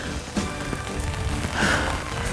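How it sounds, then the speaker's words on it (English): Rain falling steadily outdoors at a dam while fishing, a soft continuous patter on surfaces, moderately loud and alone without talk. "Oh, it's raining."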